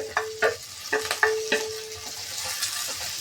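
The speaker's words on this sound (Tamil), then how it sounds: "ஒரு எக் ரைஸுக்கு பெரிய வெங்காயம் பொடியை கட் பண்ணி போட்டு வதங்குது." Finely chopped large onions sauté in a pan for egg rice, with a spoon stirring and scraping in several distinct knocks over a soft, steady sizzle close to the mic.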